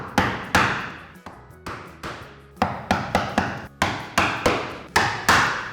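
A chisel driven into solid timber by a dozen or so sharp mallet blows in an uneven rhythm, each a loud, close knock that quickly dies away, with no talking.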